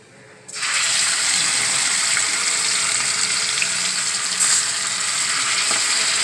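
Nigella seeds tempering in hot oil, stirred in a pan: a loud, steady sizzle starts abruptly and holds throughout, close and continuous with a brief swell partway.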